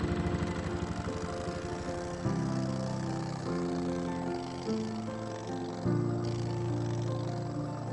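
Small engine of an Argo eight-wheeled vehicle running steadily nearby, its pitch stepping up and down in several distinct shifts as the throttle changes, with no voices.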